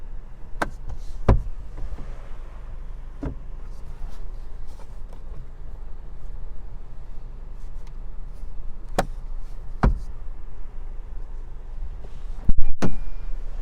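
The power sunroof of a 2021 Honda HR-V EX tilts open with a steady, low motor whir running throughout, close by, broken by a few sharp clicks and taps.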